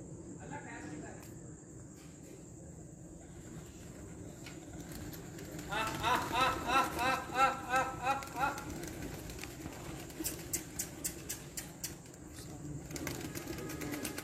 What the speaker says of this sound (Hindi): उस्ताद मिठू लाली खुद पिंजरे के अंदर छेड़े मारे कबूतरों को पुचकार कर रहे हैं